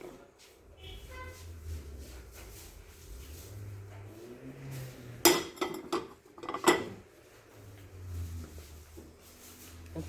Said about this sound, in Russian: Это чешская посуда. Можно брать сколько вам надо. Фарфор.